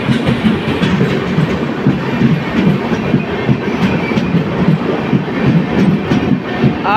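The Okha Dwarka Express, a passenger train with general and AC three-tier coaches, runs along the rails in India with a loud, close, continuous rumble and a steady clickety-clack of wheels over rail joints.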